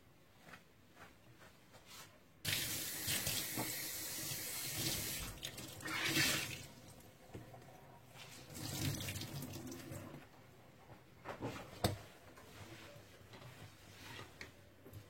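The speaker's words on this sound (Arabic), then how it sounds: "دابا غادي نغسلو بالماء باش نحيد منه داك لاكراس" Tap water runs and splashes onto oven door glass during cleaning, starting abruptly and continuing in uneven gushes and dribbles, close and moderately loud.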